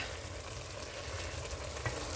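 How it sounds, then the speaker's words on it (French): Matembele leaves fry in a pan with a steady, soft, continuous sizzle and faint stirring, close and unbroken throughout with no voices. "Quand vous préparez les matembele, il faut toujours remuer parce que les matembele, c'est des feuilles qui crament vite aussi."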